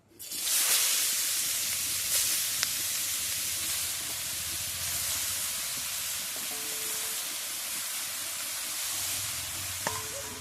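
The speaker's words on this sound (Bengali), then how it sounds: "আমি কড়াতে ঘি দিয়েছি। এবার ওর মধ্যে দিয়ে দিচ্ছি গাজর।" Grated carrots hiss and sizzle steadily in hot ghee in a wok while Bengali-style carrot halwa is cooked, a constant close frying hiss with a few faint clinks and no talking.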